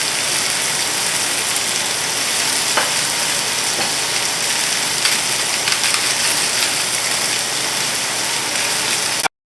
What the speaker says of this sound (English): If you have any gaps, you can put the onions right in there. And keep your going on a high heat.